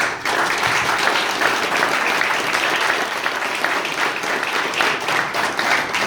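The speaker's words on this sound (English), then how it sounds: "Let's give her a round of applause." Crowd applause greeting the introduction of the Director of the Iowa Economic Development Authority at a Main Street Iowa community event in Coon Rapids: steady, dense clapping, loud and sustained for several seconds with no talking.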